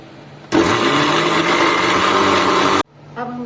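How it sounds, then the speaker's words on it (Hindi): A mixer grinder grinding karonda chutney roars at full speed for about two seconds, a loud steady whir that cuts off abruptly, followed by a brief clatter. "मिक्सी में पीस के देखते हैं कि यह पीसने के बाद कैसे दिखता है"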